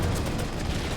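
Heavy gunfire from the horror video game The Evil Within, a dense continuous barrage of booming shots filling a single second.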